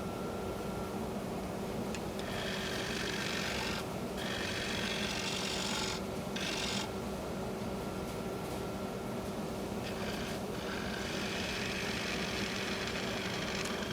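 A bowl gouge thins the walls and bottom of a cracked, warped firewood bowl spinning on a lathe, a steady raspy scraping hiss over the constant motor hum, with brief pauses as the tool lifts away.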